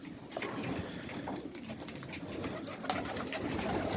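Domestic pigeons of the garip breed coo softly in a loft, low repeated calls with faint rustling, fairly quiet and without talk.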